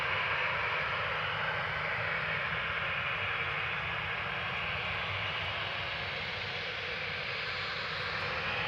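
A fourteen-year-old Boeing 737-800 jet airliner at Amsterdam Schiphol Airport produces a steady, even broadband engine roar that holds at a constant level throughout, with no voices.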